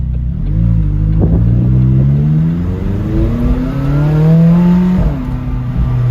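A McLaren sports car accelerates hard in second gear. Its engine note climbs in rising sweeps with a brief dip at a shift, loud and close and alone, with no talking.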